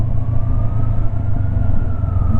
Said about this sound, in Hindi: और एम्बुलेंस जा रही है ऑलरेडी